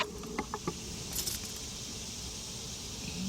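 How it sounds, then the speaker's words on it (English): A set of keys for a 2000 Isuzu Rodeo 3.2 jangles in a few quick metallic clinks, close and fairly quiet, followed by a low steady background hum. "The next thing we're going to do is take our key."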